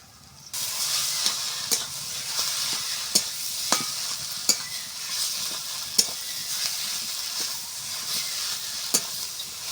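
Potato-style filling seasoned with Maggi masala stirred and frying in a pan, a soft continuous sizzle broken by repeated scraping clicks of the spatula at an uneven rhythm, close and fairly quiet, no talk.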